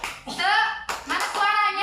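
Children in a classroom do a cheer clap, sharp hand claps mixed in with their loud chanting voices, in two bursts separated by a brief pause.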